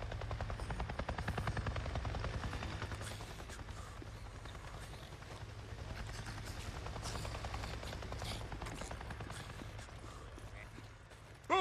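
A helicopter in the open-world game Days Gone sweeps past as a steady, loud rotor drone, a low rumble holding through nearly twelve seconds with a faint rhythmic chop over it.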